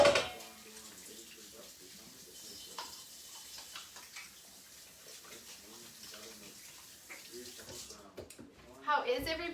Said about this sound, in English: I'm going to rinse my hands off, get all the butter off